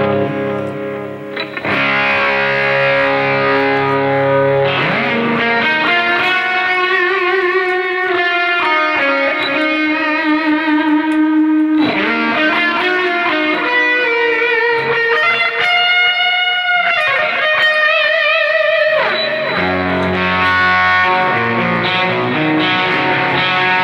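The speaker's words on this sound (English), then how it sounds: "This tone is going to use an MXR Distortion Plus." An electric guitar played through an MXR Distortion Plus tone on a Boss eBand JS-10 gives loud, saturated 80s heavy metal riffs and sustained bends. It continues with no talk.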